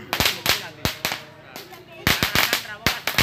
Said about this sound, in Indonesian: Mercon cabuk 3 meter.